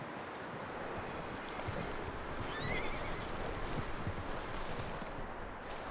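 A horse whinnies once in the video game Red Dead Redemption 2 over a steady outdoor ambience of wind and faint rustling, with hooves shuffling softly.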